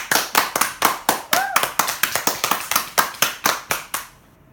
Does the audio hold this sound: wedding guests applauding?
yes